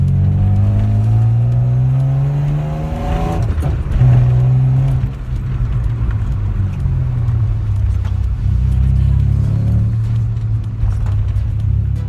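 A 1995 Mazda MX-6 LS runs along a straight road; its engine drones loudly and steadily from inside the car, with the pitch climbing and easing as it accelerates and shifts.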